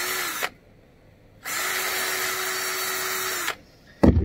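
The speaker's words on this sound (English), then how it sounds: "let's just see if we can't drill a couple holes here real quick" A power drill whines in two bursts, one short and one longer lasting about two seconds, drilling holes through a rubber piece, with a near, steady motor pitch and a sharp knock at the end.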